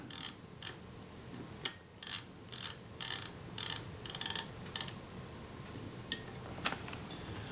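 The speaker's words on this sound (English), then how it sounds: "when you load your film again and you press this lever, it shifts the reverse lever back out of the way" Soft mechanical clicks and ticks from the lever and sprocket mechanism of a 35mm film camera under restoration, in irregular small bursts, faint and close with a steady background hiss.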